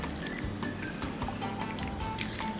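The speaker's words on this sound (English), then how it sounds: "I will add some aspic here" Thick aspic poured onto a mixture of pork feet and carrots, wet glugging, dripping and squelching sounds that continue close and steady, with a few small clinks.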